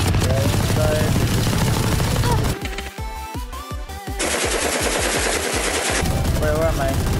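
Automatic gunfire from the tactical shooter Valorant, heavy Odin machine-gun bursts rattling loudly in rapid strings, with a brief pause between volleys and game effects layered underneath.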